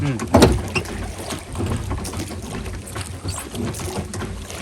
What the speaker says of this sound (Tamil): இந்த மாதிரி நீங்கள் போட்டும் ஓட்டலாம்.